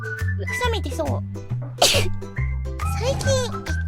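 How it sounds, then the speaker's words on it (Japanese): A sneeze bursts out over continuous background music, with a voice talking before and after it. "くしゃみ出そう。"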